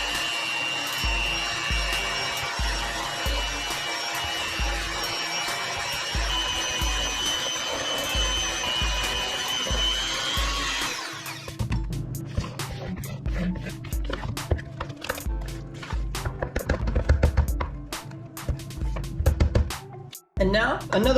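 An electric mixer whirs steadily through pound cake batter with milk for about ten seconds, then stops, followed by clattering and scraping of utensils against the bowl.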